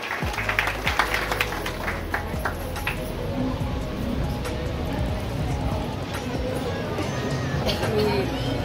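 Applause from a crowd welcoming guests at a community gathering, a dense continuous clapping that stays fairly loud throughout, with people talking and chattering over it.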